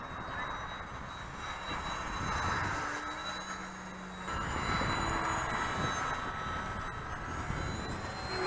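A radio-controlled model airplane with AS3X stabilisation flies on a very windy day. Its motor gives a steady, high whine that swells and fades over a continuous wash of wind noise.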